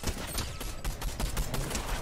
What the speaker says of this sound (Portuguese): Tá trocando tiro.